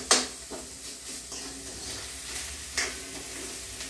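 Fresh shelled, cooked cowpeas being sautéed in a tempering pan, giving a soft, steady sizzle with a couple of sharp scraping stirs near the start and again toward the end.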